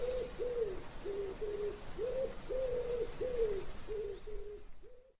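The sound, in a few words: pigeons cooing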